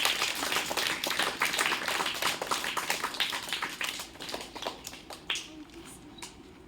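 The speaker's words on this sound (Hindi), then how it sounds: "इसके लिए जोरदार ताली से स्वागत कीजिए।" A school audience claps to welcome a pupil at a class results and prize ceremony, a modest, uneven patter of hands at moderate distance that gradually thins out toward the end.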